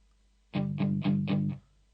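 Five short, chunky bursts of distorted electric guitar power chords, tightly palm-muted, chugging in quick even rhythm before stopping abruptly.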